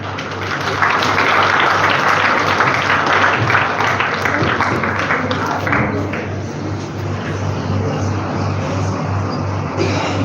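School participants at a live event receive steady crowd applause, dense and continuous for about ten seconds over a low electrical hum, easing slightly midway before carrying on.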